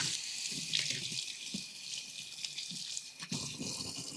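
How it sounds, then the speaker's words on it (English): Tap water runs steadily into a sink while hands are washed, a continuous splashing rush with small shifts in texture from the hands moving under the stream, close and alone without talk. "Wash my hands."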